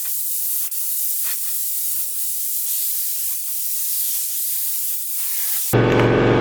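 A spray gun lays a second coat of paint onto a Jensen GT hood, giving a steady, loud hiss that runs almost unbroken for about six seconds before a louder, rougher noise takes over at the end.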